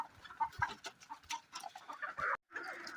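Desi hens clucking and scratching while pecking at maize waste on a farm, several birds near the microphone in uneven, busy bursts, with one brief silent gap before the flock noise resumes.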